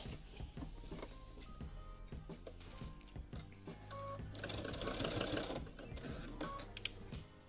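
A sewing machine stitches quilt binding, giving close, busy mechanical whirring and clicking in short runs that swell in the middle of the stretch, with no voices.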